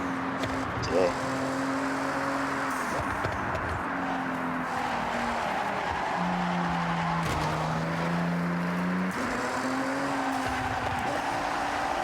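A car drifts in the Forza racing game: a sustained engine note rises and falls with gear and throttle changes, mixed with tire-skid noise and a few sharp bumps.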